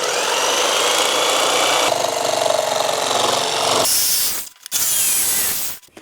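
A loud power tool cutting an MDF rear parcel shelf for a BMW 2002 restomod, with a steady harsh whine for several seconds that shifts pitch midway, then cuts out briefly and returns before stopping.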